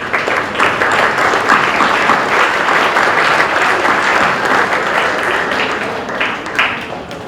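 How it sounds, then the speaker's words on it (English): Loud, close crowd applause at a school award presentation day after student awards are announced, with dense continuous clapping that eases slightly toward the end and no voices. "Another round of applause."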